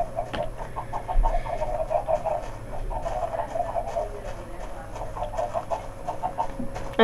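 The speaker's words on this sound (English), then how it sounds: "So then if we head back over here, there's a chicken coop." Blocky chickens cluck in a coop in the video game Minecraft, a steady run of short repeated clucks at moderate volume over a constant low hum, continuing throughout without talk.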